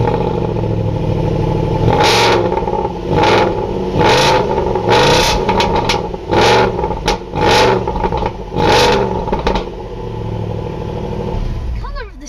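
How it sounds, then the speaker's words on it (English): A Range Rover Sport engine, the same unit used in the Jaguar F-Type, revs hard in a run of short, loud bursts close by, each throttle blip rising and falling before the engine settles to a rumbling idle. "It also has the exact same engine as the F-Type, and just listen to it."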